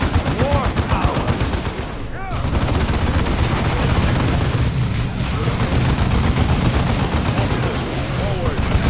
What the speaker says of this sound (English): Tactical squad, return fire.